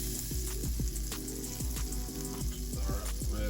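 Red onions fry in butter and a little olive oil in a pan, a moderate sizzle running steadily beneath a louder tonal background.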